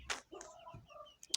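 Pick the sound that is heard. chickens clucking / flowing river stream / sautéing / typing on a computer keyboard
chickens clucking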